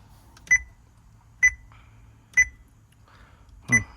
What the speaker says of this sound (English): Wonder if you could turn down that beep.